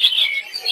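A brief, loud, high chirping call from lory parrots at a busy bird market, heard close and alone for under a second.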